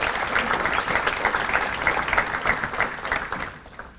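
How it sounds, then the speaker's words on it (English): An audience at an alumni awards luncheon for Southwest Minnesota State University claps in sustained, dense applause that stays steady and loud, then thins out and fades near the end. "just give them a round of applause"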